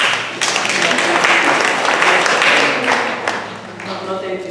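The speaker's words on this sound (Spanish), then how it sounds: "Muy bien, un aplauso" An audience at a Spanish-language religious gathering breaks into applause, a loud, close burst of dense clapping lasting about four seconds with voices mixed in.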